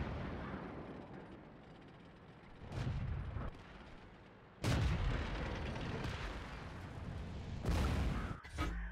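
Artillery fire in World of Tanks, a few heavy booming shots spaced seconds apart, each with a rumbling tail over low background noise.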